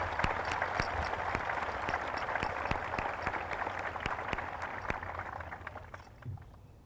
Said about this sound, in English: Let's give a round of applause for the parents,